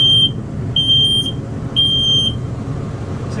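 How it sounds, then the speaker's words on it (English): Combined carbon monoxide and smoke detector running its self-test, giving three piercing high-pitched beeps about one second apart over steady low background rumble in a house. "That's the monitor for your carbon monoxide. So right now it's blinking red because it's doing a test"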